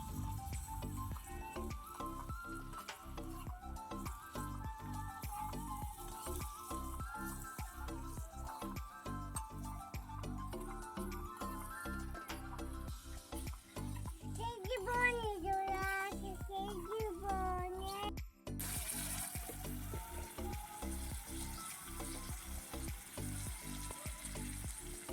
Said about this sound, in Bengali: তো এবার নেড়ে নেব।